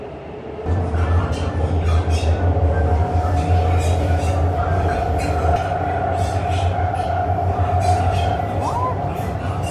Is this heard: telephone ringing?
no